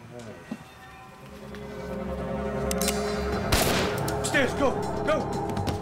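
A single sharp gunshot cracks out inside a building midway through a dense, noisy background with murmuring voices.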